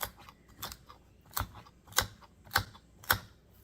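A knife chopping ingredients for pork noodle soup, cut into small pieces: a steady series of sharp, close chops about every half second, each a crisp tap against the board, with no talking.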